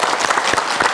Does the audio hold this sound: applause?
yes